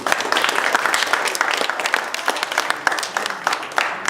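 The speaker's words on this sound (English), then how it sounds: "Give yourself a round of applause, please." Audience applause at a foundation gathering, a dense sustained wash of many hands clapping, fairly loud and steady throughout with no speech over it.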